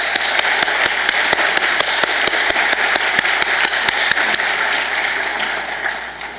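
Book festival audience applauds book club members with dense, loud, sustained clapping and a few sharp individual claps standing out, easing slightly toward the end.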